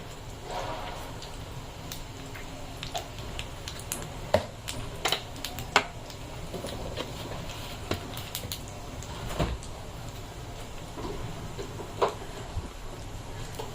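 Mustard seeds and cumin, with curry leaves, crackle in hot oil as a tempering for a brinjal dish: a close, steady sizzle dotted with scattered sharp pops and clicks throughout.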